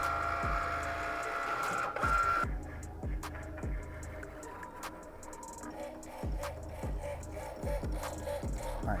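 A Cricut cutting machine works leather for custom Air Jordan 1 sneakers, giving off regular mechanical ticks and clacks as the carriage moves, with a motor hum that drops out after about two seconds, close and moderately loud.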